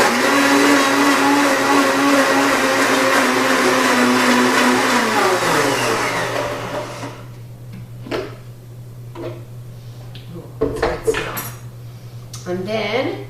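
A blender whirs loudly and steadily while mixing salad dressing, then winds down, followed by scattered kitchen knocks and clinks of dishes and utensils.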